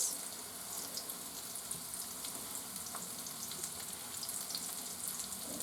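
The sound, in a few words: oysters frying and sizzling in hot oil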